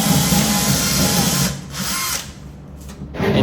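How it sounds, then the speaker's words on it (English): Power drill boring a hole into the bottom of an IKEA cabinet during a condo renovation in Bangkok, a loud whirring grind for about a second and a half, then dropping and sputtering in shorter bursts. "They're drilling a hole in the bottom of the cabinet."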